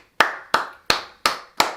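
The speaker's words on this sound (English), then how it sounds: "round of applause." Five slow, separate hand claps, loud and close, each with a short ringing decay, spaced evenly as a mock round of applause during a casual football chat.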